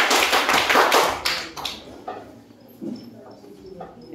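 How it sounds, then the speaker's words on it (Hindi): A mathematics classroom breaks into quick, close clapping for a student, a burst of overlapping claps for about a second and a half that then thins into a few scattered taps and claps. "ताली बजा दो इस बच्चे के लिए"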